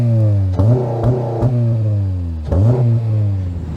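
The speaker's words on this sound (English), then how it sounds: "believe it or not, that is the stock exhaust" A BMW 335i E90 on its stock exhaust revs loudly and close by, with sharp blips followed by falling idle tones, two main revs separated by a brief settle.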